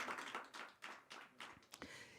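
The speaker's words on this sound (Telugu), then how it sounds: "అందరూ ఒకసారి తల్లికి గట్టిగా చప్పట్లు కొట్టి కృతజ్ఞత తెలుపుదాం." A church congregation at Holy Mass claps in a quick, uneven rhythm of hand claps. It is faint and distant, with no voices over it.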